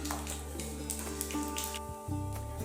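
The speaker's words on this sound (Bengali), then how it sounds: "এরপর ফোড়নে দেব কালো জিরে" Nigella seeds spitting and crackling in hot mustard oil in a kadai, a steady close sizzle with a faint hum under it and no talk, for village-style aloo posto.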